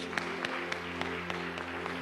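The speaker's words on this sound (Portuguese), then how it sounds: "Dê uma salva de palmas para Jesus." A church congregation gives a round of applause for Jesus during a Sunday Bible school service, soft rhythmic claps over a steady hum.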